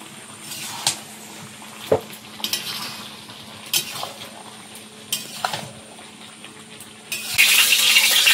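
Chilli powder, coriander powder and ginger-garlic paste are stirred and sautéed in a pan, with a low sizzle under repeated scraping and clinking strokes of a spoon. A louder hiss of frying swells at the end, and no one speaks.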